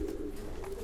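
A Kipp und Söhne pigeon coos in a breeder's loft, one short low throaty coo close by with no talk over it.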